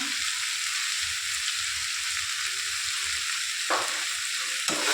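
Vegetables sauté with salt and turmeric for a ridge gourd, potato, eggplant and snail curry, a steady close sizzle with occasional stirring scrapes of the pan and no talking.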